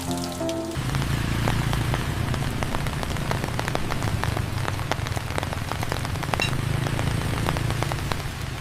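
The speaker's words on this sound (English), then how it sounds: "Some people spent hours just sitting and listening to the rain." Steady rain falls in an alley in old Saigon, pattering densely on nearby surfaces with scattered sharper drips. The hiss is continuous and fairly close, with no voices.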